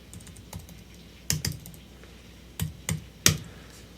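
Keys tapped on a computer keyboard in a few irregular clusters of sharp clicks, some fumbled presses among them, close and fairly quiet with no talking.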